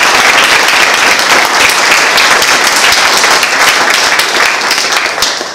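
A forum audience gives the League of Women Voters Water Committee a loud, close, sustained round of applause, the clapping thick and continuous before easing slightly at the end.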